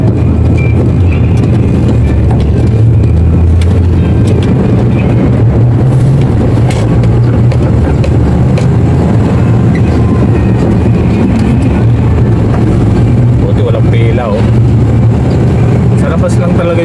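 Many trucks run outside a port, making a steady, loud, dense rumble of engines and traffic noise throughout, with voices talking over it.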